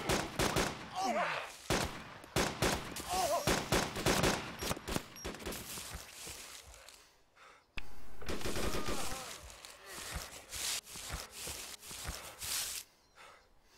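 Machine gun fire in the survival video game DayZ: repeated, loud bursts of rapid shots crackle through the whole stretch. Heavy, dense volleys are broken by brief gaps, with faint voices underneath.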